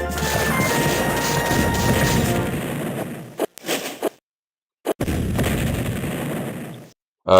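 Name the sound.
horse artillery fire in Civil War Generals 2 video game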